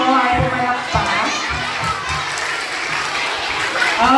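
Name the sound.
audience applause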